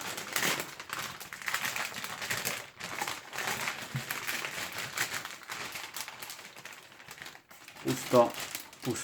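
Foil Panini Euro 2020 sticker packet being torn open and crinkled, a continuous rustling and crackling close to the microphone with brief pauses, while a person talks over much of it.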